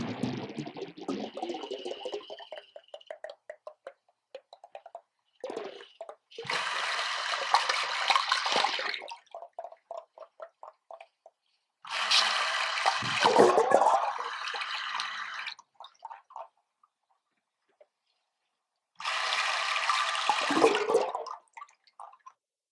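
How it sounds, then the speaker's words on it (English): Underwater recording of a fishing boat's trolling motor lowered and running: several loud, bubbling, churning bursts of several seconds each, broken by sparse clicks and near silence, with no speech. "One of the coolest things is the amount of noise your trolling motor makes"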